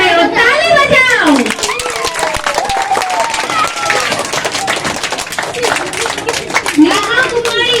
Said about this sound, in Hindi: ऐसे ही तुम लोग कर रहे हो, ताली बजाओ।